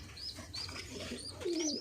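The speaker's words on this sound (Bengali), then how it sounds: "এই যে কবুতরের বাচ্চাগুলো আমি এখানে রাখলাম" Young pigeon chicks call from close by, giving thin high chirps and a soft low coo-like sound in a short burst, with no voices.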